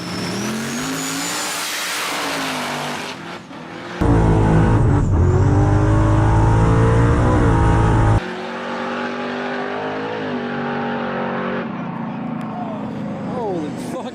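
Street-racing trucks, including an S10 from Ohio, accelerate hard at a Texas TK19 event: loud engines climb in pitch through repeated rising gear sweeps, with abrupt shifts in level as the runs pass.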